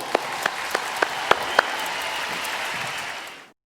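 A crowd applauds in dense, steady clapping with a few sharp louder claps near the start, then the sound cuts off abruptly.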